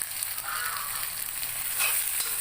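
Tomatoes frying with spices, bay leaves and ginger-garlic in a pan for rajma, a close, steady hissing sizzle with soft stirring scrapes.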